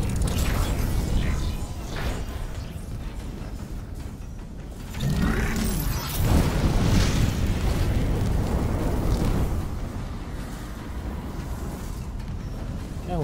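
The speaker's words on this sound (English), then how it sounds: "Elevator that doesn't work." A malfunctioning elevator mechanism in the Dead Space remake groans and creaks loudly, with grinding, ratcheting metal and a heavy rumbling surge in the middle.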